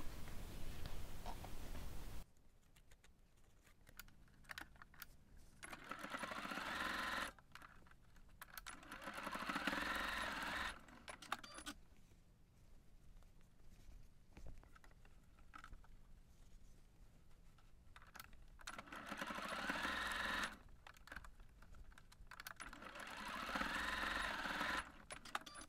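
Sewing machine stitching across the folded triangular corners at the bottom of a fabric pouch, in bursts of rapid mechanical whirring separated by quiet pauses, close and fairly loud, with no talk.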